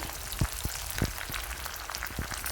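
Small onions sizzle and crackle in a hot pan, a steady frying hiss broken by soft pops and occasional stirring clicks.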